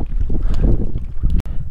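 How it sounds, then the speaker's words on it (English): Gusting wind at Cottonwood Lakes in the John Muir Wilderness, buffeting the microphone with a steady low rumble that swells and briefly drops out near the end, no voices heard. "it's a little tough with this wind"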